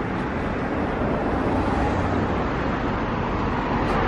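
Road traffic rolls across the Clifton Suspension Bridge in Bristol as a steady, close, unbroken roar of passing vehicles with no clear individual pass-bys.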